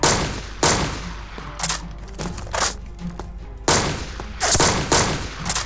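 Bursts of video game gunfire in a blocky, Minecraft-style shooter, with sharp cracks coming in clustered volleys and brief pauses between them. The shots are loud and close, as if aimed at the player.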